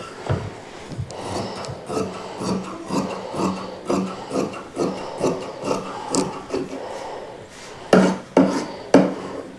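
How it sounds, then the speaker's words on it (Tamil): Scissors cutting fabric for an A-line kurti, a series of rhythmic crisp snips close by, about a dozen cuts with brief pauses, a louder cluster of three near the end. "இப்போ நம்ம இதை அப்படியே கட் பண்ணிடலாம்."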